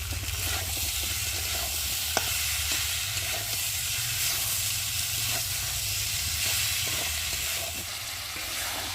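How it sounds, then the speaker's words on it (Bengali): Soybean chunks fry with spice masala in a hot pan, giving a steady, close sizzle with a soft hiss and occasional faint stirring clicks. No one speaks. "এখন আমি দিয়ে দেবো ওপর থেকে ভেজে রাখা সয়াবিনটা দিয়ে একসাথে ভেজে নেব"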